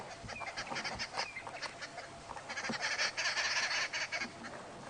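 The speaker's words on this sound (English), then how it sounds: "the babblers are chirping around me" Babblers chirp and chatter outdoors in a repeated, irregular string of bright calls, fairly close and moderately loud over a steady background hiss.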